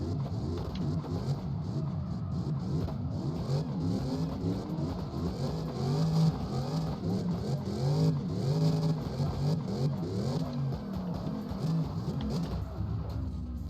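A Nishimo Z40 revs hard through the gears in CarX Drift Racing Online 2, its engine note climbing and dropping repeatedly at steady loudness, close and continuous.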